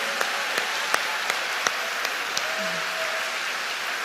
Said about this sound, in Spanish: Un aplauso más grande al Señor ahí.